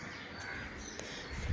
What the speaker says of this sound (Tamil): சுற்றி சுற்றி நிறைய காக்கா தான், நிறைய காக்கா இருப்பாங்க.